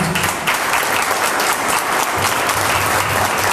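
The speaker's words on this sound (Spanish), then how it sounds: "un aplauso al Señor por permitirnos hoy" A church congregation at a Sunday service applauds loudly and continuously, a thick wash of many hands clapping close by throughout.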